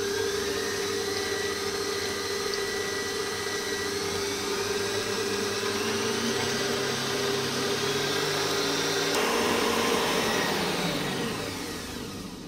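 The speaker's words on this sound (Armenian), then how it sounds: "Սկսում ենք հարել։" Electric hand mixer whipping sweet cream in a bowl for a lemon cake, a steady loud motor whine running throughout with a pitch shift near the end, no talk.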